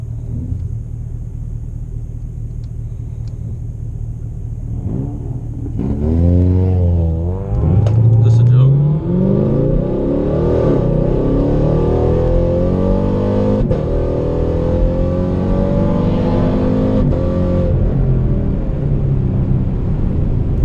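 A car engine idles, then revs and accelerates hard with rising pitch, the roar sustained and close for the rest of the clip.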